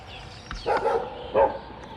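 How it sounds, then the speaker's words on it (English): A pack of dogs barks in a village of the Temuan tribe at Bukit Lanjan, Petaling Jaya. Two short bursts of barking come a moment apart at moderate distance over low background hum. "So when one pack of dogs bark, the rest bark, because that's what happens."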